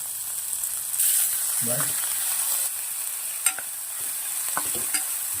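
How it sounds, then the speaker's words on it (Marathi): Onion frying in a pan with green chili and asafoetida, a steady soft sizzle with a few spatula scrapes and stirring clicks, no talking. "छान असा हा आता कांदा परतून घेतला"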